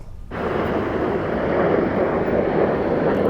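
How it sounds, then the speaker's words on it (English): Royal Air Force Red Arrows small red jets flying overhead above a crowd at a Lockheed Martin site in Texas, a loud, steady roar that swells in suddenly and holds with a broad rushing noise, no talking. "As the Red Arrows of the UK's Royal Air Force soared over Lockheed Martin"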